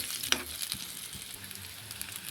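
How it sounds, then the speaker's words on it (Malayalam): Banana pieces fry in ghee in a pan while being stirred, giving a soft steady sizzle with light scraping and clicking from the stirring, heard close with no talking. "പഴം ചേർത്ത് ഇത് നമുക്ക് നന്നായി ഇളക്കാം."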